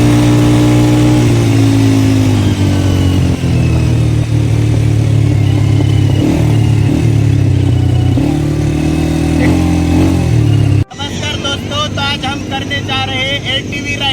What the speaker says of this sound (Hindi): ये एटीवी राइड, ये एटीवी यानी 4 व्हीलर मोटरसाइकिल होती है।